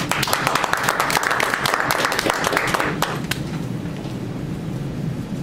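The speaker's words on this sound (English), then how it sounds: "round of applause for Ms. Palladini." Toastmasters audience applauding for a speaker, Ms. Palladini, dense steady clapping for about three seconds before thinning out into scattered claps and room noise.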